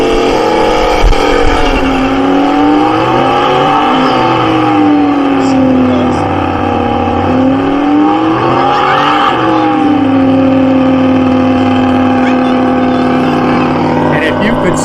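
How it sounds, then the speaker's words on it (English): Muscle car doing a tire burnout in a contest at a car show: a loud, continuous engine roar that swells and dips as it revs, with a voice talking over the din. "When you hear that horn, tires will light up."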